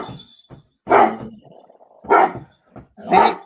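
A dog barks three times, loud and close, with short gaps and a low whine or grumble between the barks.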